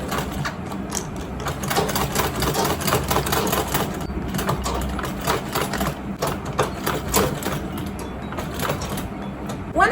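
Sewing machine stitching a leather bucket bag with Ankara fabric, running in steady rhythmic bursts with brief pauses, close and moderately loud, with no talking.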